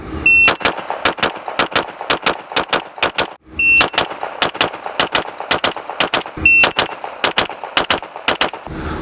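A handgun fires close and loud in rapid pairs of shots at a shooting drill, with sharp cracks grouped in quick bursts and a short electronic timer beep before each string.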